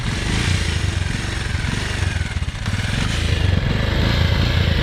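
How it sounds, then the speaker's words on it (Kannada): A motorcycle engine runs steadily at close range with a throbbing low idle and no pauses, with no voices over it. "ಇವಾಗ ನಾವು first of all bike start ಮಾಡೋಣ"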